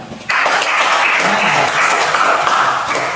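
A class of sixth-grade primary pupils bursts into dense, steady applause after a brief quiet start, the clapping continuing loud and close right to the end.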